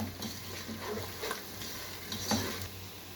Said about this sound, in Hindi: अब हम साथ ही इसमें खड़े मसाले ऐड कर देंगे और इन्हें भी 2 मिनट के लिए कुक कर लेंगे।